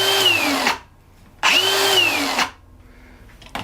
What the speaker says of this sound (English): one thing that certainly doesn't sound the same is that rapid stop.